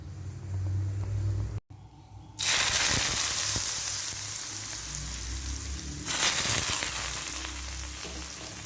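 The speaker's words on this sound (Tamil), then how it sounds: "இப்போ தாளிச்ச இந்த மிக்சரை நம்ம பீட்ரூட்டோட ஆட் பண்ணிக்குவோம்." Hot tempering mixture with curry leaves poured into beetroot for beetroot pachadi, giving a loud, steady sizzle after a brief pause, then continuing to crackle and fry with a second swell of sizzling near the end; no talking.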